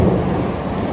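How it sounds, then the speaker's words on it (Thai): Thunder during Typhoon Danas in Taiwan, a loud, deep rolling rumble that fills the whole second, mixed with the steady hiss of rain. "วันนี้ลมนิดหน่อย ฟ้ามืด ฟ้าร้อง ฟ้าผ่านะครับผม"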